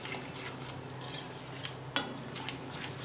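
Turmeric and chili powder stirred together in a pan for palak paneer, a soft continuous scraping with one brief louder clink, steady and fairly faint throughout.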